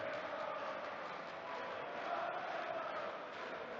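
Steady, dense crowd murmur from a darts audience in a Hamburg arena, continuous and moderately loud without distinct cheers.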